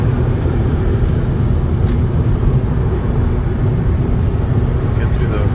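2011 Volvo C30 R with manual gearbox accelerating in 6th gear on a highway, a steady loud droning engine and road roar heard from inside the cabin, with no clear change through the stretch.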